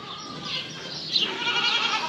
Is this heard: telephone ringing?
no